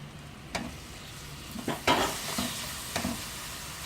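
Marinated chicken cubes frying in about two tablespoons of hot oil in a pan, a continuous sizzle broken by several sharp scrapes and clinks as the pieces are stirred, no talking.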